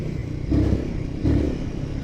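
A Royal Enfield Himalayan 450 motorcycle idles close by, its throttle blipped twice in quick succession, each short rev swelling over the low engine rumble.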